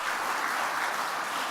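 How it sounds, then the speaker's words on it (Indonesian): A crowd at a PDI Perjuangan political speech applauds in a brief, steady burst of clapping that fills the moment at an even, moderate level. "tepuk tangannya aja nggak meriah"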